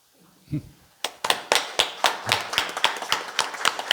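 Clapping breaks out at a Buddhist dharma service after a brief murmur of voices, a quick burst of separate claps from the assembly close by, uneven and building, with no talk over it.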